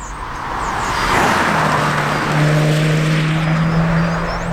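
The turbocharged engine of a drift sedan, a 1JZ Toyota Chaser or an RB25 Nissan Laurel, accelerates with a loud rising drone and a steady climbing tone, heard from inside and close up.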